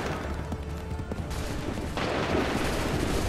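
Musket volleys crack out in a Lexington battle in Assassin's Creed 3, a dense, continuous rattle of overlapping shots that swells louder and thicker partway through.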